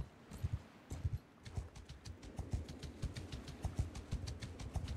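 Rhythmic clip-clop of a horse's hooves as a rider travels toward a village in Mount & Blade 2 Bannerlord, steady and fairly close, with a low background hum and faint bird chirps.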